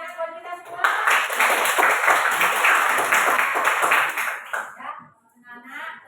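A class of children claps hands together in a classroom, a dense run of claps lasting several seconds before trailing off, with chatter around it.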